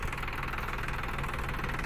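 A tractor engine runs steadily in a farm field during coriander sowing, a loud, continuous throbbing drone close by with no talk over it.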